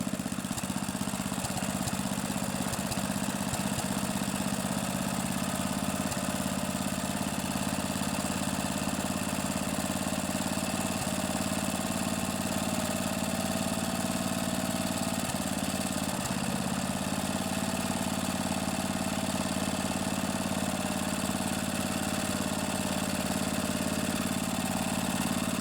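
A vintage 8 hp Briggs and Stratton single-cylinder engine on a Snapper riding mower, rebuilt with a reused head gasket, idles steadily and evenly with a continuous low throb that runs loud and unbroken throughout.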